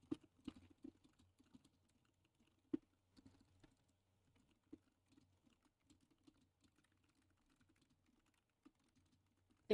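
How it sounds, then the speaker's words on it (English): Fingers tap on a computer keyboard in quiet, uneven bursts of soft clicks, close to the microphone, with a louder clack at the very end. "Apologies, my keyboard is very, very annoying for you guys."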